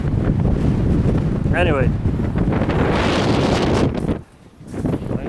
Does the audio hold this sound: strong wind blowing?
yes